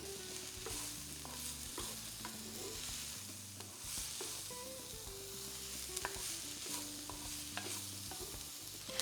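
Peppers and onions sizzle and fry in a pan while being stirred, a steady crackling hiss with occasional scraping, set against quiet background music and no speech.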